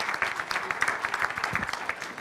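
A room applauds a young swimmer at a Club Drôme sports presentation in 2016, steady crowd clapping that fills the moment, with faint voices underneath.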